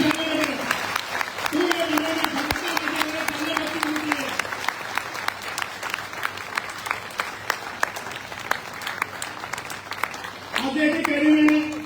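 An audience claps at a religious gathering in Udaipur, Rajasthan, during the Navoday Yatra, with dense, sustained applause that starts and ends with someone speaking on a microphone.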